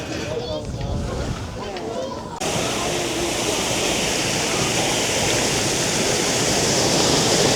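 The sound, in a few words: waterfall at Rock City Gardens, Lookout Mountain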